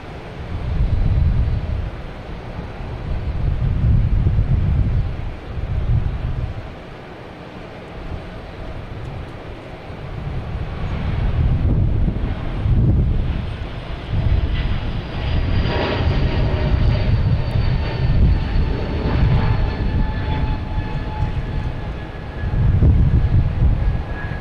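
Airbus A220 airliner at Boston Logan Airport, its jet engines roaring loudly in long swelling waves that rise, fade, and return, with a sustained whining rumble and no voices.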